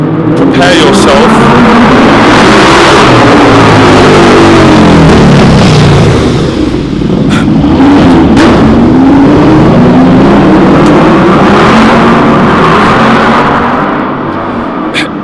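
Busy street traffic with cars passing and engines revving, loud continuous rumble rising and falling as vehicles go by close, with people talking over it.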